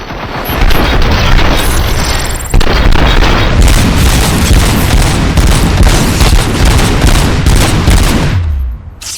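Heavy gunfire and explosions in RoboCop: Rogue City pound almost without pause, rapid shots layered over deep booms, very loud and close for nearly the whole stretch before cutting off at the end.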